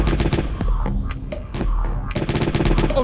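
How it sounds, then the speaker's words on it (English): A cake gun in a video game fires in rapid bursts of sharp shots, with brief pauses between volleys, loud and close. "He's got the cake gun!"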